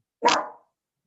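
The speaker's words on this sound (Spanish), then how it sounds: "Ese es mi perro." A pet dog lets out a single short, sharp bark nearby, with nothing else heard around it.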